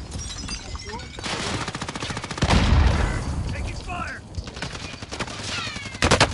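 Gunfire in the Warzone battle royale game, dense bursts of automatic shots and rapid volleys with a heavier boom in the middle, loud and continuous, with voices shouting over parts of it.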